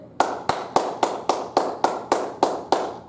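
Roughly ten slow, evenly spaced hand claps ring out close and crisp, one after another, with nothing else around them.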